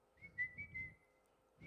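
A person whistles one thin, steady, sustained note, faint and close, over a soft low rumble of background noise.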